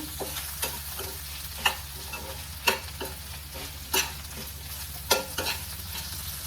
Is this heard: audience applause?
no